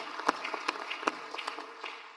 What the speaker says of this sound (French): je vous demande de bien vouloir applaudir très fortement toute l'équipe de la CEA et les interprètes